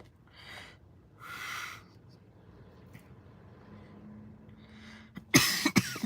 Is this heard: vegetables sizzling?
no